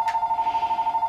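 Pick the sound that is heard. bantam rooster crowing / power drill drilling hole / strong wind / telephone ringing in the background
telephone ringing in the background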